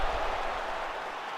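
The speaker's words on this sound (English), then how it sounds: "So the crowd voicing its appreciation after that round." A fight crowd applauds after a round ends, a broad, fairly faint wash of clapping and crowd noise that holds steady throughout.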